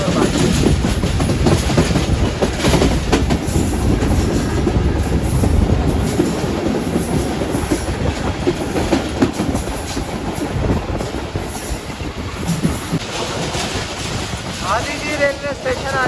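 The 46DN Pakistan Express passenger train runs fast on rails between Khanewal and Karachi, with a loud, continuous rumble, rattling wheel clatter and wind buffeting heard from on board, easing slightly toward the end.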